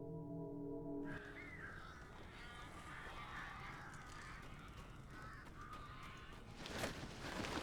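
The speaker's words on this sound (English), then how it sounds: "These birds are weird." Crows caw harshly in a dense, noisy flurry inside the video game Alan Wake, filling the scene at moderate volume with no voices.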